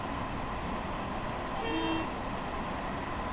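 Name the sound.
AI train horn honking in Train Sim World 6 video game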